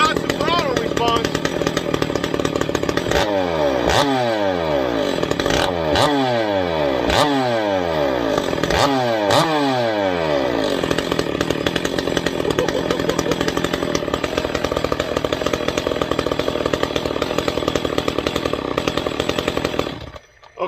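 An Echo chainsaw with no bar fitted roars loudly up close, blipped through five or six quick throttle revs that sweep up and fall back, then holds a steady high idle scream.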